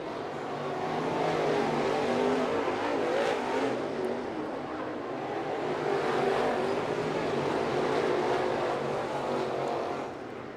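602 crate late model race cars racing at East Bay Raceway Park, a dense, continuous roar of engines swelling and fading as the pack circles the dirt oval, loud and sustained throughout.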